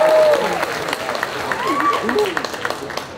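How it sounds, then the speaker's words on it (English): An audience at a dance competition event applauds in a continuous crowd wash, with cheering voices and chatter mixed through the clapping. "Can I have another applause?"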